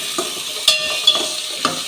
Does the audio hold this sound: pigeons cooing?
no